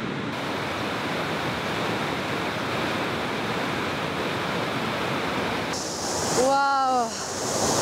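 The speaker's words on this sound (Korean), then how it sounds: "기나긴 여행길에 나선 강물의 우렁찬 소리가 마음을 한껏 고조시킨다" The glacier-fed Karakol river roars in a steady, dense rush, loud and unbroken throughout, with a brief bird call near the end.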